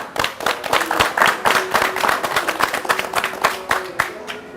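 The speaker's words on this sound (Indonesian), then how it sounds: "tepuk tangan dong" An audience at a White Car Indonesia car community gathering in Purwakarta claps steadily and close by, a lively run of overlapping hand claps lasting a few seconds with little talk.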